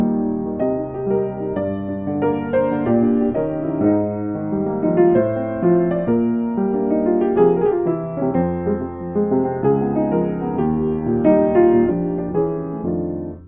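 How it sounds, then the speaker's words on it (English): Solo piano plays a song in a brisk 7/4 meter, steady layered chords and melody ringing out continuously, close and clear with no voices. "You could do it at a faster 7-4 as well"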